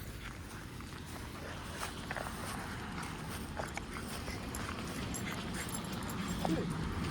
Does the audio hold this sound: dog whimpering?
yes